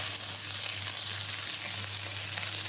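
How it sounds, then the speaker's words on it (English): Lamb searing in a hot pan for a Sichuan stir fry, a loud, steady, even sizzle of fat and meat with no pauses or voices. "So now you see I'm just searing my lamb."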